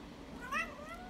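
A farm cat gives a single short meow, rising and falling, at moderate volume over a quiet background with no voices.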